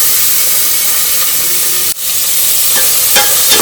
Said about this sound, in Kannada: ಆನಿಯನ್ ಸ್ವಲ್ಪ ಪಿಂಕ್ ಟರ್ನ್ ಆಗೋ ತನಕ ಒಂದ್ ಸ್ವಲ್ಪ ಫ್ರೈ ಮಾಡ್ಕೊಳ್ಳಿ ಈ ತರ